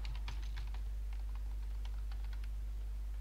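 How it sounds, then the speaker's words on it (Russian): Typing on a computer keyboard while entering an email and password, a quick patter of light key clicks over a steady low electrical hum, close but soft, with no talk. "Вводим почту, нажимаем пароль."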